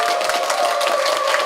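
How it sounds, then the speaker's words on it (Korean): A religious talk-concert audience welcomes the host with a short burst of dense, even clapping, loud and sustained for the whole moment. "큰 박수로 환영해 주십시오"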